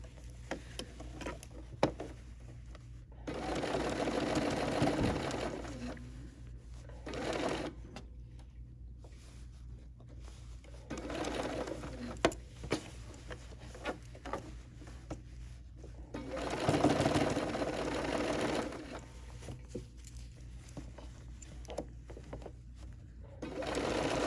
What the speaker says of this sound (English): I'm just stitching right on my previous stitching